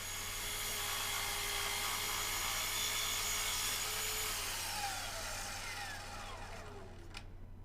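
A Festool Kapex miter saw whines steadily as it cuts through a piece of wood trim, the loud motor tone holding for several seconds before winding down toward the end.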